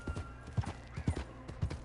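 Horse hooves clip-clopping at a steady walking rhythm in the video game Red Dead Redemption 2 on PS4, several distinct thuds, fairly quiet and close, with no talking.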